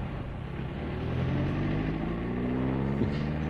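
A car moves off through traffic, heard from inside as a steady low engine rumble that rises slightly in pitch as it gains speed, fairly quiet and continuous.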